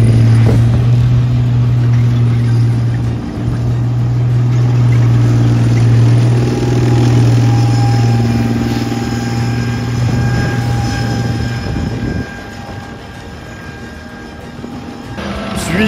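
A Challenger tank drives past at Tankfest, the British Tank Museum event, its engine a loud sustained low drone with a steady hum that holds, then fades as the vehicle moves on.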